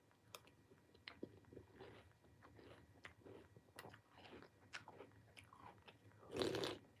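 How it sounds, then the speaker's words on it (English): Ice cubes in a bowl of cereal are crunched and bitten, a series of sharp close crisp crunches at irregular intervals, ending in a louder burst of chewing. "I like to slurp on the ice that I put in my cereal."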